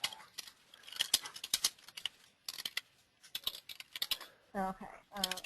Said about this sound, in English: So we're just going to type in the text here.